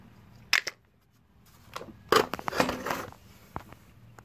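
A plastic cover is pulled off a Husqvarna 128L grass trimmer under repair, giving a few close, faint clicks and scraping rattles in short bursts with quiet gaps between.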